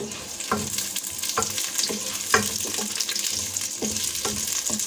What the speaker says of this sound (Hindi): इसमें मैं ये प्याज और शिमला मिर्चें मैं हल्की से एक्स्ट्रा फ्राई कर दूँगी